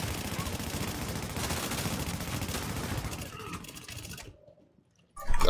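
Dense, rapid automatic gunfire from The Division video game in a Tier 5 landing-zone boss fight, loud and continuous for several seconds before fading to near silence, then a sharp loud burst returns at the end.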